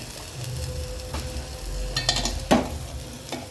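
A spiced mixture seasoned with red chilli powder and salt is stirred in a pan, a steady low sizzle and scraping running throughout, with a sharper clink of utensil against the pan near the end.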